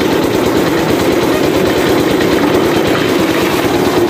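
The engine of an abaca fiber stripping machine runs loud and close in a steady, dense, rumbling drone with a fast, even pulse throughout.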